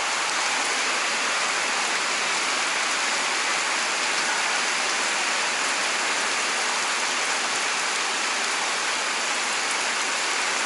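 Heavy rain pours steadily in a continuous loud hiss, heard while cycling through it, with no pauses or voices throughout.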